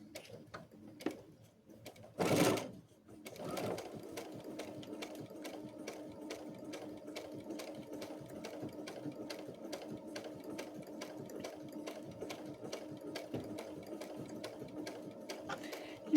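Sewing machine stitching along the edge of quarter-inch bias tape, a soft rapid mechanical ticking hum that runs steadily after a brief start-up and a short noisy bump near the beginning.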